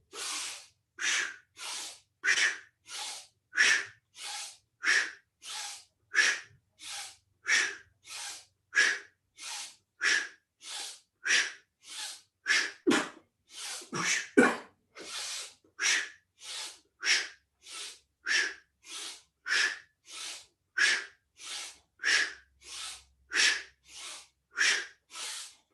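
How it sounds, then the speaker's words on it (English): Forceful breathing exercise done with aggressive inhales and exhales, roughly forty loud, rhythmic breaths alternating in a steady pattern, close and alone with no talking. "You're going to breathe in aggressively down, and then out,"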